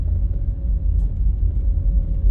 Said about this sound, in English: So it's just a quick drive around the campus.